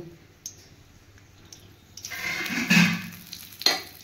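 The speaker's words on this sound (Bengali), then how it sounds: "শুকনো লঙ্কা দিব আর কালো জিরে ফোড়ন দিচ্ছি আমি।" Dried red chillies and nigella seeds drop into hot oil in a kadai, setting off a brief rising sizzle and crackle with a few sharp pops and clicks near the end, close by and fairly quiet.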